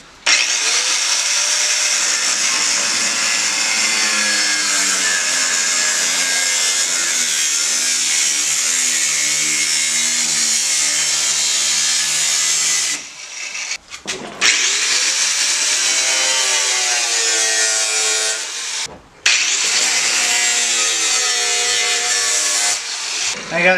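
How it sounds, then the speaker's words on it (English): A power tool grinds through very stiff steel, a loud continuous harsh cutting roar with shifting tonal whine, briefly stopping twice, as sparks fly. "this part here is very stiff steel. Woo! And I'm only gonna cut an opening so I can get the sawzall in"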